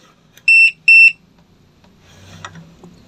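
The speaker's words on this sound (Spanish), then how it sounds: "Cada vez que se abra se separa el contacto, pues emita una alarma" A Sonoff alarm fires two loud electronic beeps as a magnetic door contact is pulled apart, followed by faint handling noise and quiet speech.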